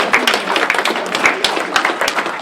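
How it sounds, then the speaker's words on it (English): An audience at an athletic hall of fame ceremony claps in a close, dense burst of applause, with individual hand claps audible throughout. "That's what gets you applause."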